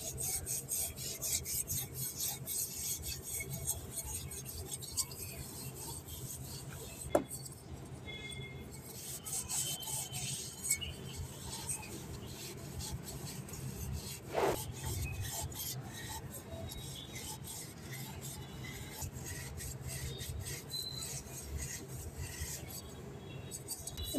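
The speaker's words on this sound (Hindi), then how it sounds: "रगड़ रगड़ के साफ कर लो" Copper utensils are scrubbed clean by hand with a continuous raspy rubbing and scraping that is fairly quiet and close, broken by a couple of sharp knocks.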